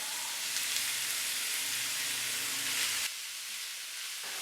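Half a kilo of minced beef fries in a pan with softened onions, producing a steady close sizzle and hiss that drops in intensity partway through, with no talking.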